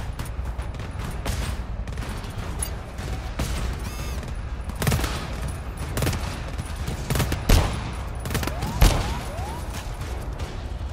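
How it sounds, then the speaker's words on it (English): The hell gun fires in the video game GTFO as sharp bursts of shots that repeat irregularly over a constant background hum, some louder and nearer than others. "Oh, that's the hell gun, isn't it?"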